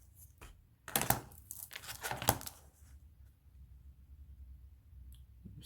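Paper corners being trimmed for a scrapbook photo album, a few crisp snips and rustles bunched together in the first half, then quiet handling of paper.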